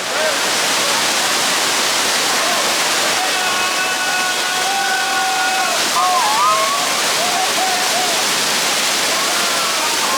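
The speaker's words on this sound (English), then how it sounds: "that's how you enter the waterfall in the back here" Broad, steady roar of Dunn's River Falls in Jamaica, cascading water rushing continuously and close by, with faint voices and tonal chatter from people over the constant spray.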